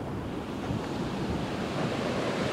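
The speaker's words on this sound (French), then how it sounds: "En même temps, sur la durée, je filme la houle." Ocean swell rolls and breaks along an Indian Ocean coast in a continuous broad roar of surf, loud and close, with wind buffeting the microphone throughout and no voices.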